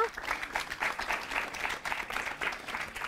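A short burst of applause from a small TV game show studio audience, steady clapping throughout, moderately loud.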